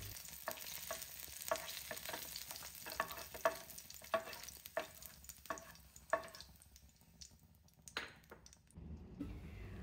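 Green chillies and garlic frying in a pan after dried chillies, with a crackling sizzle and a series of sharp spatula taps and scrapes in an irregular rhythm, the sizzle fading near the end.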